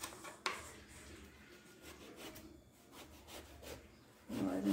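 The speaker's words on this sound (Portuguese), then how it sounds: "a gente vai cortar a berinjela, fatia não muito fina, também não muito grossa." A knife slices eggplant on a cutting board for an eggplant lasagna, making soft, muffled scraping and rubbing strokes close by, with a firmer contact sound near the end and no voices.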